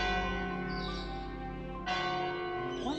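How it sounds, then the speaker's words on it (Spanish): Church bells ring continuously, rich and resonant, with a fresh strike about halfway through and overlapping tones lingering throughout. "¿Y qué sonido de las campanas?"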